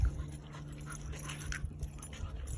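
A dog panting with soft whimpers near the microphone, a brief, faint burst of quick breaths over a low steady background hum during a walk through an abandoned building.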